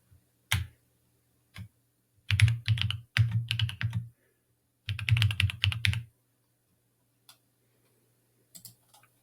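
Bursts of typing on a computer keyboard that is acting up, with quick clusters of key clicks separated by pauses, fairly close and alone with no talk.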